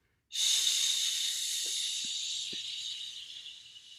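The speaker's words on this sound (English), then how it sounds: "So on my count, 2, 3, breathe in. Hold, 2, 3, out on shh." A choir exhales together on a long, steady shh, a loud breathy hiss that starts abruptly and slowly fades over several seconds, with a few faint low thumps beneath it.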